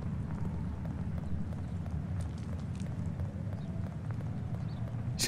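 Horse hooves clip-clopping in a video game, a steady run of hoofbeats under a dense, noisy game soundscape.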